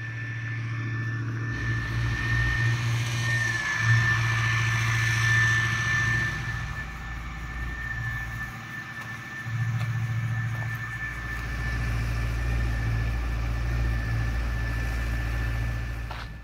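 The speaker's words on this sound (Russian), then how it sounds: "На фоне работает дизель" A diesel engine drones steadily in the background in Verkhnezeysk on the Baikal-Amur Mainline, a constant low rumble with a faint high whine, no voices.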